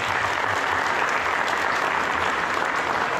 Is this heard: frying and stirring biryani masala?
no